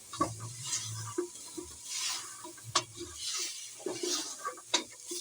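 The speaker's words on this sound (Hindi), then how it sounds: "चिकन में अपना ही ऑयल होता है, उसी से हम इसे भून लेंगे।" Chicken frying in its own fat without oil, a low sizzle under frequent stirring scrapes and light knocks of a utensil against the pan, close and moderately quiet.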